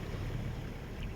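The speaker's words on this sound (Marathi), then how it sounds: "हे समुद्राच्या लाटा ना आता?" Sea waves at Devbag in Malvan, Sindhudurg, on the Konkan coast, where river and sea meet, roll as a steady broadband wash mixed with low wind rumble, fairly close and continuous with no talking.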